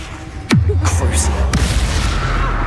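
Confringo blast spells in Hogwarts Legacy: a sharp, loud explosive boom followed by a rumbling low tail, then a second crack about a second later, with a short lull between.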